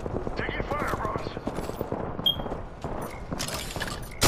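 Rapid gunfire from Apex Legends gameplay, close and steady bursts packed densely through the whole stretch, mixed with game effects and occasional player chatter.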